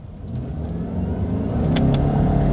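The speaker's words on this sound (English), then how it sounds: "let's test out the paddle shifters here in our 2021 Subaru Legacy" A 2021 Subaru Legacy accelerating in first gear during a paddle shifter test, its engine drone rising steadily and loud inside the cabin with a couple of brief clicks near the end.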